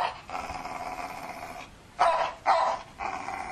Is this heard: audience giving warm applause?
no